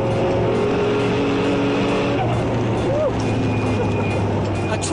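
A tuned Mitsubishi Evo road car accelerates hard, its engine droning loudly and steadily with shifting pitch as it pulls through the gears, while someone talks over the noise.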